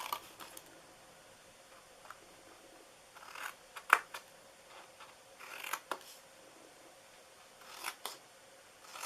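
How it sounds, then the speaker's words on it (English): Scissors snip into the sides of a handmade paper gift box, scattered short crisp cuts and paper rustles, close and quiet with pauses between. "And then I'm cutting in on these sides."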